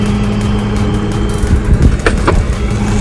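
A broken car with a glitchy fuel pump runs at idle, giving a continuous close, low engine drone with a couple of brief rises partway through and no voices.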